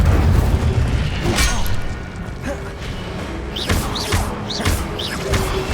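A fire spell cast in the video game Hogwarts Legacy on PS5 lets out a booming, whooshing burst, followed by further muffled thumps and pops over steady game ambience.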